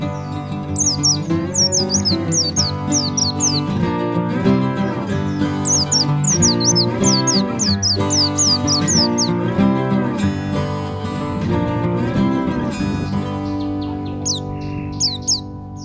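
Pleci (white-eye) birds give quick, high chirping trills in repeated bursts, sitting over loud, continuous background music throughout.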